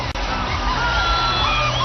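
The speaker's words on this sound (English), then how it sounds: "That big crowd which has got into the stadium now" A big stadium crowd roars and cheers at a Celebrity Cricket League T20 match between Telugu Warriors and Karnataka, a loud, steady wash of voices that keeps going for the whole stretch.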